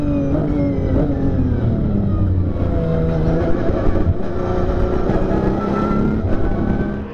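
Racing cars, an Aston Martin and a Porsche, battle at the Zolder circuit, their engines roaring loud and continuous with shifting pitch as they race close by, no talk over the engines.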